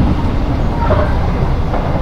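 Loud, steady rumble of the Kamandaka economy-class train running between Semarang Tawang and Purwokerto, heavy low-end roar with rattling, continuous throughout and no clear talking.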